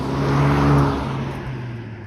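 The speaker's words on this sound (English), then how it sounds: "All right, driving the Civic Type R." A Honda Civic Type R drives along, heard from inside the small cabin as a steady engine drone that rises briefly, then eases back, alongside road and tyre noise.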